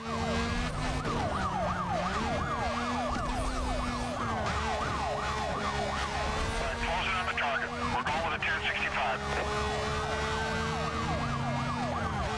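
Police car sirens from the video game Need for Speed Most Wanted wail and yelp continuously throughout a chase, loud and overlapping, with engine noise underneath and a player's voice speaking over them.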